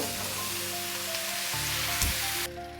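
Cut bottle gourd dropped into hot mustard oil with panch phoron, a dense close sizzle with a brief clatter as it lands, then the hiss fades.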